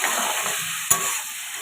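Boiled raw jackfruit fries in oil with bay leaf, dried chilli and salt, giving a steady close hiss broken by one sharp utensil clack partway through.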